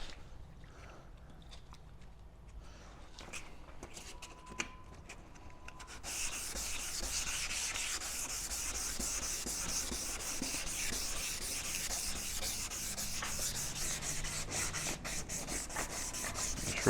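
A car headlight lens is wet sanded with 500-grit sandpaper, quiet at first and then a steady, close, continuous rasping rub that runs on without pause.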